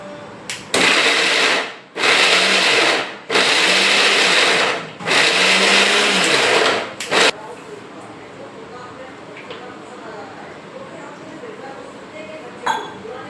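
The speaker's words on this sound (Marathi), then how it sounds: "मिक्सर स्टार्ट करू" A mixer grinder whirs loudly grinding idli chutney with water in four short bursts with brief pauses between, then falls quiet, leaving faint background noise.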